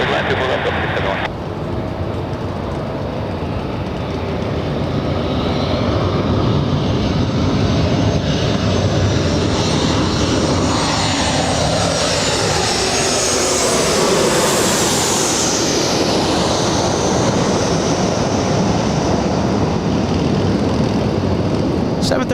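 A Boeing 737-700 without winglets lands at LAX, a loud broadband jet roar that holds steady and swells through the middle as the aircraft passes close, with a faint rising whine above the rumble.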